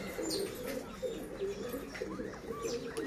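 Pigeons coo steadily in a low, repeated rhythm, with a few small bird chirps overhead and a brief flutter of wings, close by and moderately loud, with no talk.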